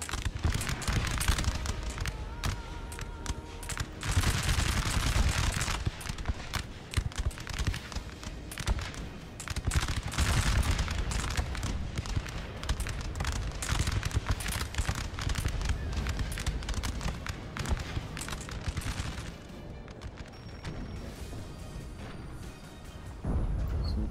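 Massed musket volleys and artillery fire in a Napoleon: Total War battle, a dense, continuous crackle of gunfire with heavy booms rolling under it, loud throughout with faint talk in places.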